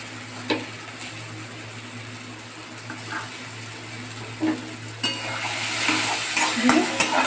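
Ridge gourd paste seasoned with salt and sugar fries in a pan, giving a low steady sizzle under a continuous hum, with a few scattered clinks and scrapes from stirring that grow busier toward the end.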